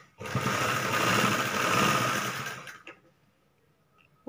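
Sewing machine stitching a folded hem on a chudithar top runs steadily and loudly for about two and a half seconds, then stops abruptly, leaving faint handling clicks.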